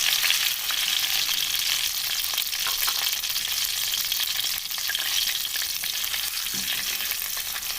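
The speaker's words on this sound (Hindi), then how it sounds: "चीनी को हमने इस घी के अंदर कैरमलाइज करना है" Sugar caramelizes in melted ghee in a kadai, giving a continuous, even frying hiss at close range with faint stirring scrapes and no voices.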